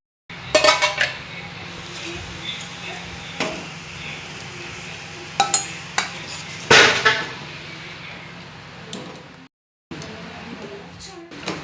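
Plates and steel dishes clink and knock as a mutton vada meal is served, with a few sharp clatters over a steady low kitchen hum and voices in the background, and one brief drop to silence near the end.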